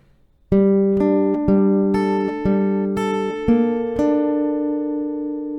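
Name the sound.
acoustic guitar playing a riff slowly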